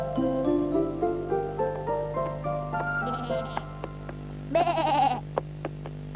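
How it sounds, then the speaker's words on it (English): A sheep bleats in a series of wavering, quavering calls, close and clear, with a sharper burst near the end, heard alone over a faint steady hum. "Bleated the sheep."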